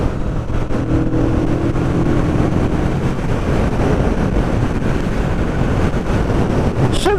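Steady, loud wind rush buffets the microphone on a CF Moto 650NK naked motorbike at speed on a fast road, a continuous broadband roar with a low engine drone underneath and no talk.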